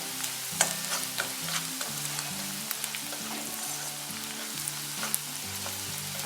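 Onion sautés in a pan for drumstick zunka with a quiet, steady crackling sizzle, broken by light clicks and scrapes as it is stirred.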